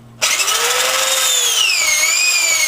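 A drill-driven ball hone spins inside engine cylinders during a rebuild, a loud high whirring whine that starts suddenly and holds steady, its pitch wavering slightly as it works.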